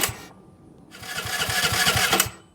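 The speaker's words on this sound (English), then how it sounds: "it's not going to start without fuel, but let's just see" A Honda Navi scooter engine cranks without fuel after an engine swap, a steady loud mechanical chugging in a regular rhythm that pauses briefly, then resumes for over a second before stopping.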